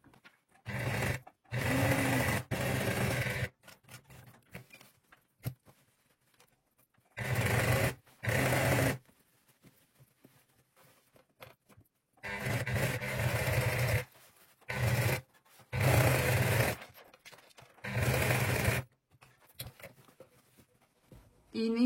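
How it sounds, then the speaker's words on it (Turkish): A sewing machine stitching the lining into a crochet bag runs in short motorized bursts of a second or two, separated by quiet pauses, loud and close. "Şimdi makine aşamasına geçiyoruz. Evet, başlıyoruz şimdi dikmeye."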